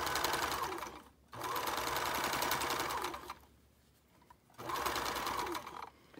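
A sewing machine stitches a seam on a baby kimono in three steady, close bursts of rapid mechanical whirring, separated by short pauses.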